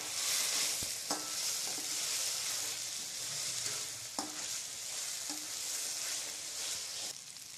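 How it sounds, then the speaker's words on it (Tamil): Vegetables for restaurant-style egg noodles fry in hot oil, a steady sizzle broken by repeated clanks and scrapes of a spatula stirring the pan, fairly quiet and close. "நல்லா கிளறி விடணும்."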